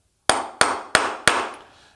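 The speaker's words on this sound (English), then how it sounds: "So we actually just use a little coaxing hammer" Small coaxing hammer tapping 6mm bearings into press-fit spots on a CW Morse paddle, four sharp evenly spaced metallic taps, close and clear with no talk.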